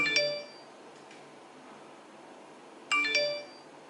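Two short bursts of chiming electronic notification tones from an iPhone, one at the start and another near the end, separated by quiet room hiss.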